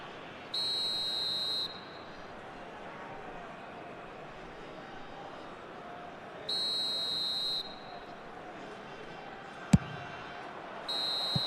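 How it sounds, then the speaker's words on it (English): A referee's whistle in the eFootball video game blows for half-time in three separate blasts, each about a second long, sharp and piercing over a low, steady stadium crowd murmur. "Oh, and with that, the half-time whistle goes."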